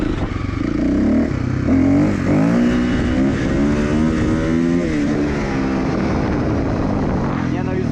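Motorcycle engine revving hard during wheelie gear-shift attempts from second toward fifth: loud, close, with repeated rising and dropping pitch sweeps as revs climb and gears change.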